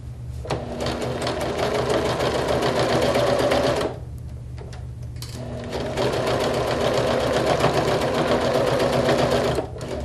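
A sewing machine runs a steady, close stitching burst along a seam, stops for a moment, then resumes with a long, even whir, with no talk.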